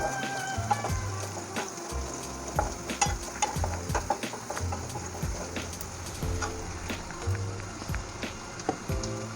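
Onions sizzling hard in a pan over a high gas flame, with a spatula scraping and stirring in irregular close strokes through a steady fry hiss.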